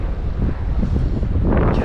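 Wind gusts past the microphone beside a river during fly fishing, a steady low rumble with slight surges and no voices.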